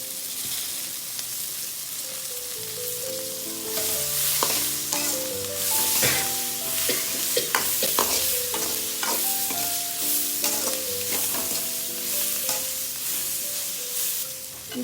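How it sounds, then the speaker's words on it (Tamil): Curry leaves fry in hot oil for gongura thokku while a spoon stirs and scrapes the pan, giving steady close sizzling broken by frequent clinking stir strokes. "இப்போது கருவேப்பிலை போட்டுக்கலாம்."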